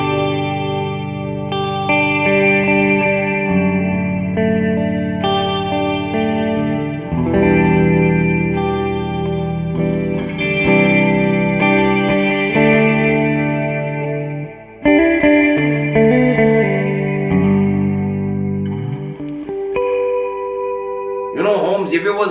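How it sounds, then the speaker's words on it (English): A Nash electric guitar played clean through a Victory V40 Duchess amp with the reverb turned all the way up, ringing chords and a melodic riff sustaining with a lush, washy tail, loud and close with no talking. "what you're hearing now is just the Nash into the Victory V40 with the reverb on full"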